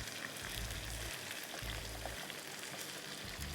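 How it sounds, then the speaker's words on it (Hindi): Chicken fries in a small amount of oil for Balochi karahi, a soft, continuous crackling sizzle heard close up and fairly quiet, with a low intermittent hum pulsing underneath. "अच्छा, अब हमारी चिकन फ्राई हो रही है।"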